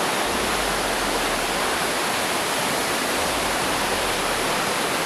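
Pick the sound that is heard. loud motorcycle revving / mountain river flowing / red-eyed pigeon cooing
mountain river flowing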